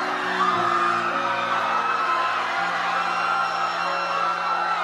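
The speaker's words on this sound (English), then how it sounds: "a group of screams were heard in the distance" A group of people screaming and yelling in the distance, a sustained wash of overlapping shrill cries and whoops that stays steady throughout with no clear break, beneath a droning low tone.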